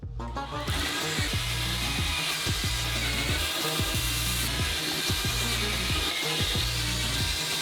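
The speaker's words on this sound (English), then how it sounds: "We screw everything together using screws." A power drill whirs in repeated short bursts, driving screws into a wooden shell mold box for a giant gummy cola bottle, each pulse close and loud in a steady rhythm.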